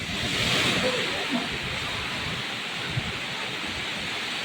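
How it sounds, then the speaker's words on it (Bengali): Heavy rain pours steadily in a broad, even hiss that fills the whole stretch without letup, with a person talking faintly beneath the downpour. "ভালো বৃষ্টি"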